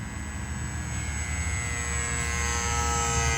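Aeroscout RC airplane flying overhead at about quarter throttle, a steady, continuous electric motor and propeller whine that holds even and slowly grows a little louder, with no talking.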